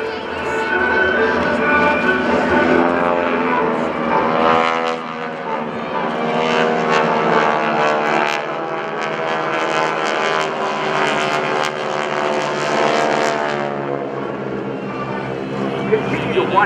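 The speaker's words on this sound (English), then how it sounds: "Continue to watch the aircraft overhead as they reach on, and then reverse to give you one more exciting photo opportunity across Show Center." GEICO Skytypers propeller aircraft flying overhead at a Rhode Island ANG open house airshow, a loud steady droning engine roar that swells and shifts pitch, with a public-address announcer talking over it.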